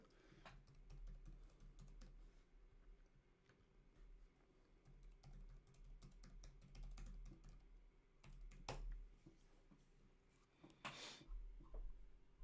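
Steady typing on a computer keyboard runs through the whole stretch, a fairly close and continuous patter of key clicks with a few louder taps, over a low room hum during a music livestream.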